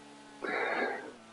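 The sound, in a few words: commentator clearing his throat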